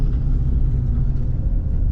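A delivery truck drives along the road, giving a steady, close low rumble of engine and road noise that stays even throughout with no voices.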